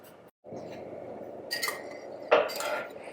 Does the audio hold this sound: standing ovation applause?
no